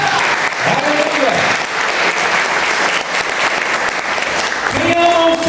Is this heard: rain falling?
no